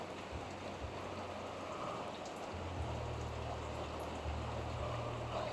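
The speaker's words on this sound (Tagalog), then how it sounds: "Nakikinig po sa ulan." Steady rain falls without a break, heard from inside a house, a dense hiss of drops with a low hum running underneath and no voices.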